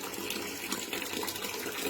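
Water gushes steadily from a household tap in Patiala, running black with dirty municipal supply, a constant close rushing splash that runs unbroken throughout.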